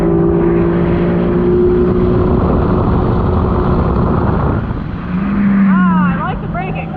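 Four-stroke Superjet stand-up jet ski on a top speed run on open water, engine droning loud and steady with heavy wind buffeting close to the rider, pitch shifting near the end as the run eases off.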